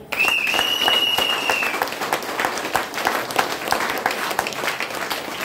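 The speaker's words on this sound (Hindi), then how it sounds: "इनके लिए ताली होगी होता है।" Audience at a business seminar breaks into loud, sustained applause, a dense crowd of clapping hands with rhythmic surges, briefly joined by a whistle near the start.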